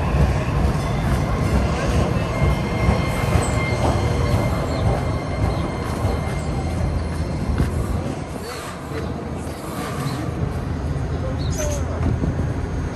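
A DART Red Line light rail train running between West End and Union Station, heard from inside as a loud continuous rumble and rattle of wheels on track with occasional squeals, while passengers talk nearby.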